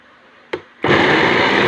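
A household blender clicks on with a sharp snap, followed a moment later by its motor roaring up to a steady, loud, full whir that continues to the end.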